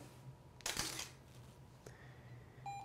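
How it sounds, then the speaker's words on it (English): A camera shutter clicks once with an SF-ABRL 160 stand-mount studio strobe with LED modeling light, giving a crisp mechanical snap. A softer click follows, then a faint electronic beep near the end against quiet room hum. "click the shutter again for our second shot"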